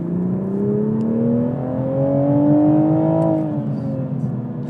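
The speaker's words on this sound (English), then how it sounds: "I just love hearing the turbos." A 2021 Toyota Supra's turbocharged engine pulls steadily from inside the car, its tone climbing smoothly over several seconds before easing off, with a faint whir layered over the drone.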